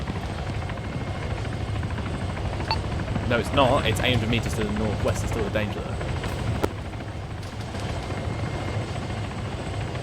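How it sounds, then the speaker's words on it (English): A helicopter coming in to land nearby in the military game Arma 3, a continuous heavy rotor roar throughout, with people talking over it on radio. "you better get that helicopter down quickly"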